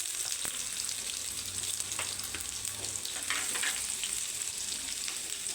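Mustard seeds, cumin and garlic fry in hot oil for besan pithla, a continuous soft sizzle scattered with small crackles and pops, with faint scraping of stirring, moderately quiet and without talk.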